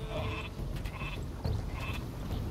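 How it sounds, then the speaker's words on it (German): Sheep bleat in the Northgard strategy video game, several short cries repeating at a moderate level over a dense, continuous game ambience. "Oh, das Schaf kann ich auch steuern."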